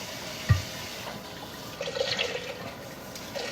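Water from a kitchen tap runs and splashes as a container is rinsed out, a brief knock near the start followed by a steady, moderately quiet rush with a few louder splashes.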